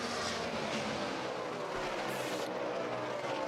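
NASCAR Sprint Cup race car at the 2008 Pepsi 500 in California, its engine roaring loudly and steadily as it passes close by, with a brief rising whine partway through.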